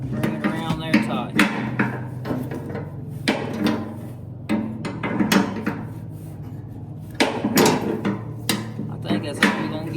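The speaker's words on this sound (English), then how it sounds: "So I'm gonna take the wrench and bring it around there tight." Wrench work on a farm tractor that won't start, with repeated sharp metallic knocks and clanks in irregular bursts, close and fairly loud, over a low steady hum.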